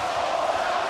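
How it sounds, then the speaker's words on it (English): A partisan home crowd at the Arthur Abraham vs Robert Stieglitz III boxing match erupts in a brief, steady roar of cheering and applause, filling the arena with sustained noise. "the mini eruption of applause from a passionate home crowd"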